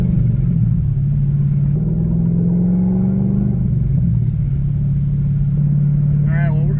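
A Cadillac CTS-V with a new exhaust rumbles steadily up close, its deep engine drone rising slightly in pitch as it pulls, then settling back, loud and continuous throughout.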